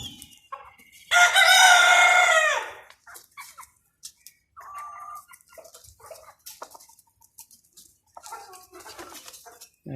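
A rooster crows once loudly and close by, a long harmonic call lasting about two seconds, followed by quieter scattered clucks and rustling.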